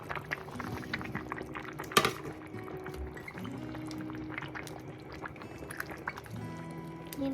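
Lecho with peppers and cherry tomatoes simmers in a pot, a soft continuous bubbling with occasional light clinks of a utensil against the pot, fairly close but quiet.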